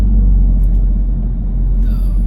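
A car with a 300 hp EA888 engine driving in a city, producing a loud, steady low engine rumble and road noise close by, with no talk over it.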